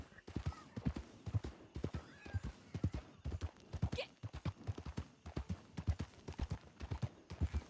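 Horse hooves clip-clop in Red Dead Redemption 2 near the town of Armadillo, a steady close rhythmic trot with a whinny partway through and a voice speaking over it.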